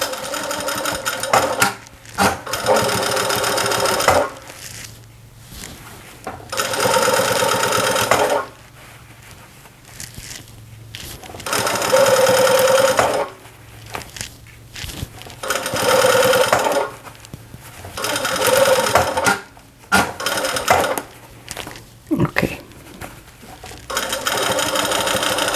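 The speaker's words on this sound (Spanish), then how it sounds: "Entonces vamos a rematar esto y vamos a empezar a coser." A sewing machine stitches fabric for a welding cap in repeated bursts of a few seconds each, separated by short pauses, close and fairly loud, with no talking.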